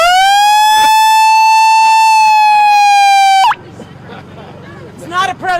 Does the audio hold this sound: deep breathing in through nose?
no